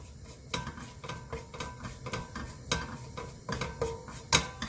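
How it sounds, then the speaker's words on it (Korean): Fine red chili powder stirred in sesame oil in a pot over heat, heard as a steady run of light scraping and clinking utensil strokes against the pot, close and fairly quiet, with no talking. "먼저 고춧가루를 볶아줍니다"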